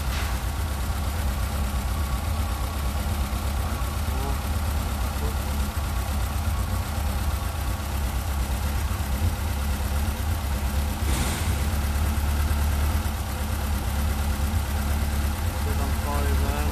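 A 4-cylinder engine with twin Weber/Dellorto DCOE/DHLA carburettors idles steadily, a close, even, low rumble held throughout, with a brief burst of noise near the end.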